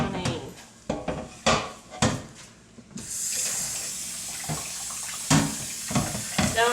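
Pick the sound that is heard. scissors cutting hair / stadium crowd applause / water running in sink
water running in sink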